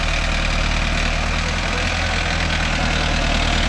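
A Mahindra Novo 605 tractor engine labours under load while pulling a five-point cultivator through a field, a loud, steady diesel drone with a rapid knocking pulse running throughout.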